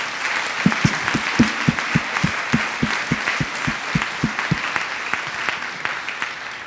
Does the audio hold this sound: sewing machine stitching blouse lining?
no